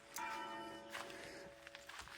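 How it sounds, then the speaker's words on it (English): A church bell in the hillside village of Monsanto, Portugal, rings out with clear tonal strikes and a lingering hum, fairly distant and soft, while a few footsteps shuffle nearby. "There's the church bell. Must be 2 o'clock."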